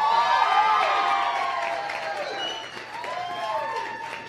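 An audience at a CrossFit Open announcement event applauds and cheers for athletes Dan Bailey and Bjorgvin Karl Gudmundsson, with loud sustained clapping and whoops mixed with shouted voices from the crowd.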